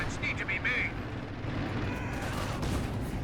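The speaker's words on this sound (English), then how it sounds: "The Panther is now on it, but it hits a mine." Panther tank hitting a mine in the Company of Heroes video game, dense battle booms and gunfire rumbling continuously under energetic commentary.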